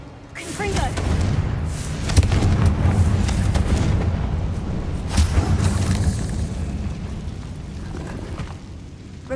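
The Confringo explosive spell in Hogwarts Legacy goes off as a heavy rumbling boom with sharp cracking bursts, sustained and loud for several seconds before slowly fading.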